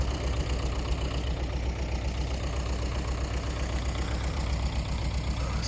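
An MTZ-80 tractor runs with a cultivator attached, its diesel engine giving a steady, close, low throbbing drone with a rapid knocking pulse that holds even throughout.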